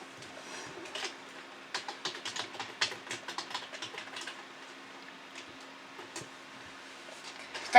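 Fast typing on a computer keyboard, with close, quick irregular clicks in bursts that thin out toward the end over a low steady hum.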